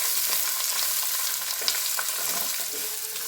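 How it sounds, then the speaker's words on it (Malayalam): Green chilies, curry leaves and small sambar onions sizzle in hot oil while a spoon stirs them, a close, continuous frying crackle with light scraping and no voices. "ഇപ്പം പച്ചമുളകും കരിയാപ്പിലയും ഒന്ന് വഴറ്റിയതിന് ശേഷം നമുക്ക് ചെറിയ ഉള്ളി ഇടാം."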